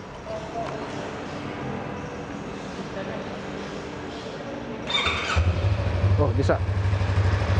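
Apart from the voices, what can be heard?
Yamaha MT25 2021 motorcycle engine starting and idling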